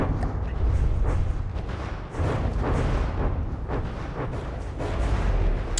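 Heavy cannon fire booms and rumbles continuously in the game From The Depths, crab cannons pounding a sand fortress in a dense, loud barrage with no pauses.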